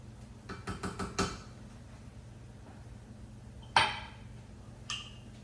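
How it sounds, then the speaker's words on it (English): Pesto pasta gets stirred in a metal pan, a quick series of scraping clinks and knocks from a utensil at the start, then a sharper clatter and a softer knock later, close and moderately quiet. "We're just going to mix everything up and plate it."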